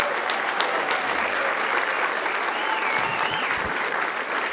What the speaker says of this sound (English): Give a large round of applause.